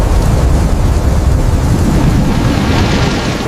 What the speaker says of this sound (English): A heavy storm rolled in, bringing fierce winds and pounding rain.